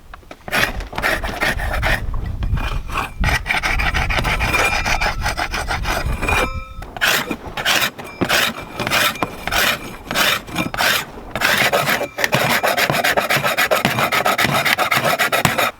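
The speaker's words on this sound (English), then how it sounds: "And you scrape, pushing down like that, so it scrapes like that" A layer of membrane on a drum-like surface is scraped off with firm downward pressure, loud close rasping strokes repeated in runs with brief pauses between them, no talking.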